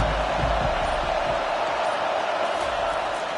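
A large crowd roars in a football stadium late in the fourth quarter of a Texas versus Florida game, a dense, steady wall of noise with no clear voice standing out.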